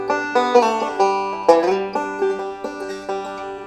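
Bluegrass banjo backup fill-in lick in G, bright plucked notes in a quick rolling pattern with sharp attacks and ringing decay, played solo and close.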